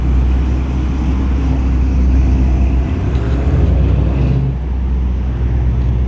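Classic cars cruise along Woodward Avenue at night, a loud steady low engine rumble with passing traffic and wind buffeting the microphone, no voices.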